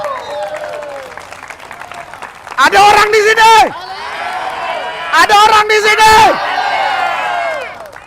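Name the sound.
congregation cheering and applauding for God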